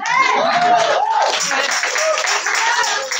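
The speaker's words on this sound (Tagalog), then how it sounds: "kung wala nang idadagdag, yung palakpak nyo" A church congregation claps together during a sermon, a brief burst of crowd clapping that is masked by louder voices and tonal sound.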